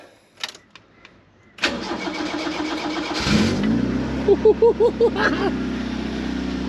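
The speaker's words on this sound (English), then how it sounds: "we're going for the first startup in, God, it's probably been 6 months since this thing's been started" A Toyota AE86 that has sat for six months cranks and fires up after a few clicks, settles into a steady idle, then gets some short blips of revving, close and loud.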